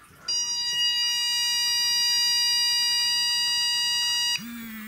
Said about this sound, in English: So the beep is supposed to start to condition the dog